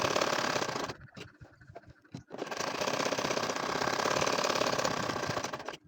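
A household sewing machine stitches a nakshi kantha quilt, running in a steady rapid whir, pausing briefly with a few soft clicks, then resuming at a constant pace close by.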